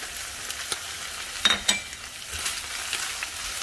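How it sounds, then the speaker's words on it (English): Garlic and onion sautéing in a pan over high heat, a steady close sizzle with brief louder crackling bursts as the pan is stirred. "The garlic will not take that long because I am working with a high heat. I don't want the garlic to burn. I want it to saute quickly."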